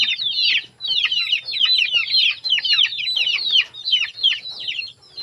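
Chickens cluck and chatter steadily at close range, dense overlapping calls from a healthy backyard flock, loud and continuous with no talk.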